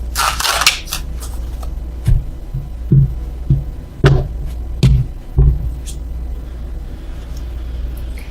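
Tarot cards being shuffled by hand, a run of brisk riffling at the start followed by several separate soft taps and slaps of the deck, close and alone with no talk.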